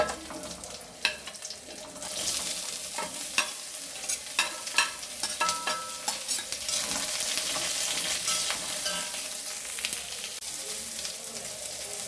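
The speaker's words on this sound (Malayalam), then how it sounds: "പച്ചമുളക് മൂത്ത് വന്നപ്പോൾ നമുക്ക് സവാള ഇട്ട് കൊടുക്കാം." Onions and green chillies fry in a pan, making a steady broadband sizzle that jumps louder after about two seconds, with scattered scraping stir clicks throughout and no talking.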